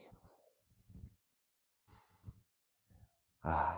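Slow, deep yoga breathing during a sunrise session in Cambodia, soft breaths with pauses between them, ending in a louder, fuller exhale close to the microphone.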